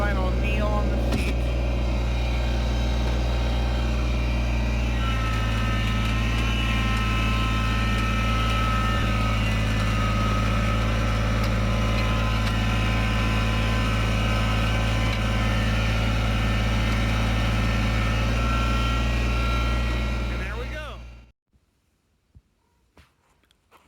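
A tractor engine runs steadily and loudly up close while lifting a rake on a muddy, storm-damaged road, its low drone constant for about twenty seconds before cutting off abruptly into near silence.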